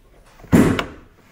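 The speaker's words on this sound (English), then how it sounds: "Open the driver's side door. Release the primary hood release lever." A single sharp thunk from a 2011-2016 Hyundai Elantra as the driver's side door is opened and the hood release lever is pulled, followed by a brief second click and a fading rattle, close by with no talking.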